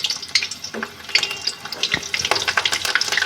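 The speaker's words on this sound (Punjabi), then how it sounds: "ਗਰਮ-ਗਰਮ ਤੇਲ ਵਿੱਚ ਇਹਨਾਂ ਨੂੰ ਫਰਾਈ ਕਰ ਲਾਂਗੇ" Slit green chillies fry in hot oil, giving a close, crackling sizzle with bubbly pops and irregular spits throughout.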